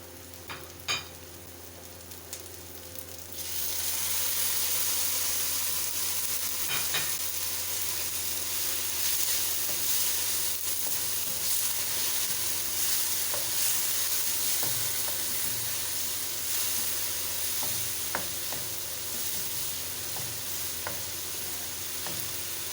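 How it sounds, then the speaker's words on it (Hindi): Spices sizzling and frying in oil while being stirred for a mixed vegetable curry, a steady close hiss with scattered scraping stir sounds, rising in loudness after the first few seconds. "अब इस मसाले को अच्छे से भून लूँगी।"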